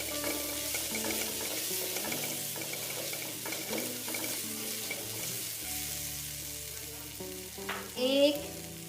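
Crushed cumin and coriander seeds dry-roast in a pan with a faint crackle and rustle, punctuated by a few stirring scrapes and a brief louder clatter near the end; quiet overall.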